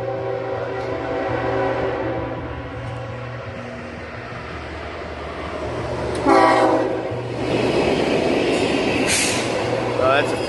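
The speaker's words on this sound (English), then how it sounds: "That train runs all the fucking time." A freight train rumbles past with a steady low drone and clacking, its horn sounding in long blasts partway through, loud and close, with someone talking over it.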